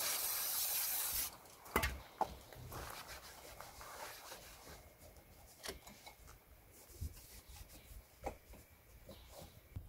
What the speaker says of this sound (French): je suis en train d'enlever cet autocollant de merde. Donc centimètre par centimètre, j'y vais à l'ongle.